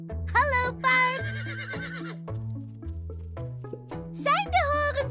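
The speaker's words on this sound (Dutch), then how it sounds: "Hé, hey, hallo paard." Horse whinnying in short high bursts near the start and again at the end over a children's song with steady backing music.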